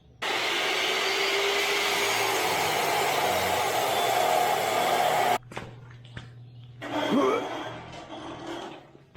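A power saw with a worn blade grinds steadily through a metal cattle gate for about five seconds, then cuts off, followed by quieter scraping and clanking as the work continues.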